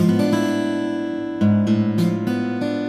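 Guitar chords strummed with unmuted open strings left ringing, a dense sustained wash with several sharp restrikes in the second half.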